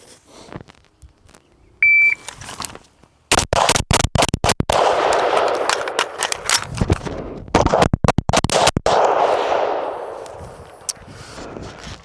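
A carbine rifle fires two loud, close strings of rapid shots during a shooting drill. A short timer beep comes first, and a pause for a bolt-lock reload separates the strings.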